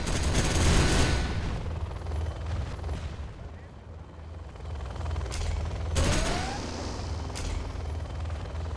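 Spectre gunship fire in the strategy game Command & Conquer Zero Hour, a heavy booming roar of bursts and rumble with a few sharp cracking shots over a droning engine-like background.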